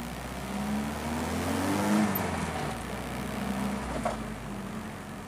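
A Volkswagen Voyage with a loud aftermarket exhaust revs and accelerates, a deep rumbling engine note rising and easing close by over road noise, no voices.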